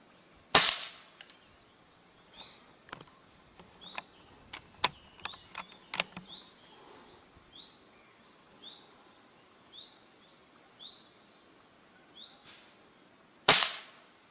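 A close air rifle fires loud sharp cracks at the start and end, shooting pellets at a target 20 yards away, with small mechanical clicks and handling noises in between and faint bird chirps repeating in the background.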